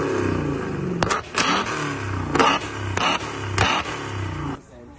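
A Corvette C7 with a straight-pipe exhaust is cold started and revved, giving several sharp, loud blips over an idling rumble, with a voice faintly heard underneath.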